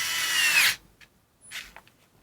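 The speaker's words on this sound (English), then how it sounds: "let's go ahead and see what the Bosch Go 3 can do" A Bosch Go 3 electric screwdriver runs under load in a torque test, whirring loudly for under a second and bogging down before cutting out, followed by a couple of brief faint clicks and rattles.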